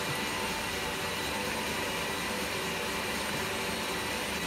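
An electric mixer beats cake batter for a marble Toblerone Nutella cake, giving a steady, dense whirring drone that stays loud and even throughout with no pauses.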